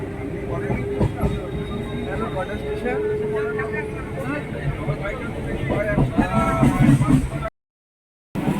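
A train pulls away from a station and runs on, a steady low rumble and rattle of the carriage continuing throughout under the talk of passengers nearby.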